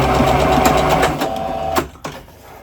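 A sewing machine runs steadily while finishing a gathered seam, with a quick back-tack at the end, loud and close, stopping abruptly before a brief clunk.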